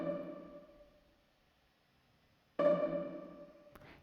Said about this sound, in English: It's a pizzicato note in the violas on beat 1 each time.